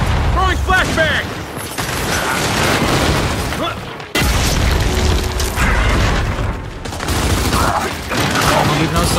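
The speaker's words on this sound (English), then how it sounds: "Throwing flashbang." A flashbang grenade goes off during a Gears 5 team deathmatch. A sudden loud burst cuts through dense, continuous gunfire and game noise, and a voice is faintly mixed in.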